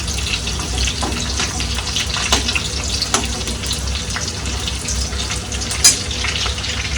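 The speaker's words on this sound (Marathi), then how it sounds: "थोडंसं परतून झालं. लसूण आपल्याला करपवायचा नाहीये" Garlic sautéing in a pan for prawn sukka gives a steady, loud sizzle and frying hiss throughout, with a few brief scrapes of stirring and no talking.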